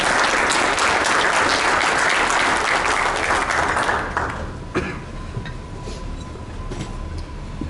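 An audience at an awards-style meeting applauds loudly with dense clapping for about four seconds, then the applause thins out into scattered claps and room noise.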